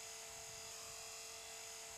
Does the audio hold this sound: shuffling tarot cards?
no